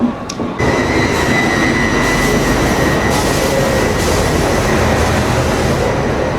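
Duronto Express 22204 rolling out of Secunderabad Junction, a loud, continuous rumble of coaches on the rails with steady wheel noise and a faint high squeal running through it, heard from inside the train with no talk.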